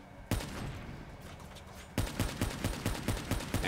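Rapid bursts of gunfire from robot enemies in the Call of Duty: Black Ops 3 campaign, loud and repeated volleys crackling in quick succession with no talking over them.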